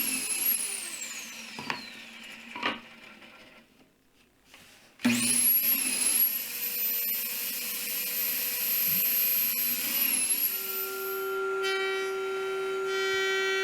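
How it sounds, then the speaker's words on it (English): A power drill whines as it spins up and bores pocket holes into a wooden frame, after a few knocks and handling sounds, then runs steadily at high pitch. "Now I'm going to drill 2 pocket holes on each side"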